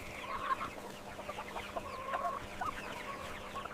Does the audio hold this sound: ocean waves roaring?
no